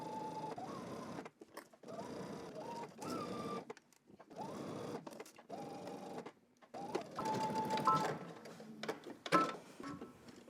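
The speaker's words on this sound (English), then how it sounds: "So now I'm gonna head to my sewing machine and I'm gonna stitch using 5/8 of an inch seam allowance." Sewing machine stitching a sleeve seam at a 5/8 inch allowance, running in repeated short bursts with brief pauses between, close and fairly quiet, with no talk.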